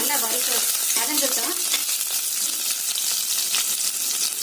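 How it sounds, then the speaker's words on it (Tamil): Loud, continuous sizzling of onions and curry leaves frying in hot oil, with occasional stirring scrapes, close up. "வெங்காயம், கருவேப்பிலை நல்லா செவக்க வதங்கணுங்க"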